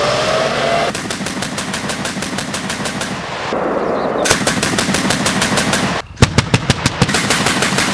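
A machine gun fires in loud, rapid bursts of evenly spaced shots, broken by short pauses and ending in a few sharper, heavier reports.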